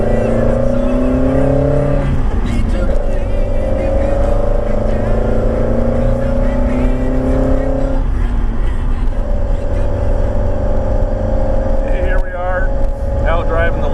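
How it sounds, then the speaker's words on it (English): A 1978 Lotus Eclat Sprint with a manual transmission drives steadily, its engine holding a loud, continuous drone with pitch shifts as it changes gear. Someone talks over the engine noise throughout. "Driving the Lotus. Really, really, really fun car to drive. I love the way it sounds."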